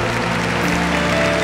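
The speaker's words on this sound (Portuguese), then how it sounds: "Vamos aplaudir." Dense, steady clapping from a large church congregation, filling the whole moment with no pause.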